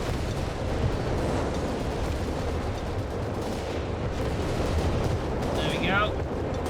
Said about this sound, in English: calling in the butterfly bombs